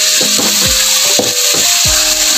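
Ginger-garlic masala frying in a pan, with a steady close sizzle and hiss and a few scraping, stirring strokes against the metal, no voices.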